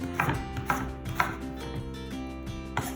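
A sharp knife chopping russet potatoes on a cutting board, steady close knocks repeating in an even rhythm over a constant kitchen hum, with no talking.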